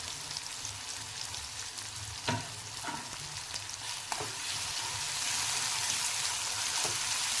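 Ginger garlic paste frying in hot oil for potato bhurji, a steady close sizzle with a few light clicks of a spatula stirring, the sizzle swelling louder toward the end.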